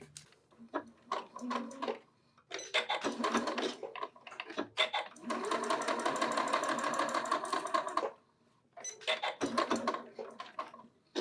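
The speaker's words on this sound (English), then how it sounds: "we're going to stitch just on each side, and this will create the top of our pocket" A sewing machine stitches along the top edge of a skirt pocket in several bursts of steady, close stitching separated by brief pauses, with no talking.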